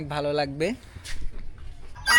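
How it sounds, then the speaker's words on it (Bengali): TT chickens at a sunny bird farm give a loud, close, drawn-out squawking call, followed by softer clucks and rustling, with a brief spoken remark in between. "এগুলা হচ্ছে টিটি মুরগি"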